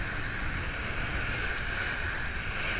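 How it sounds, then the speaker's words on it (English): A sailboat motor sailing on a flat sea near Lanai in Hawaii: a steady, dense wash of wind and water rushing past, with a constant low rumble and no pauses. "we're just motor sailing along here"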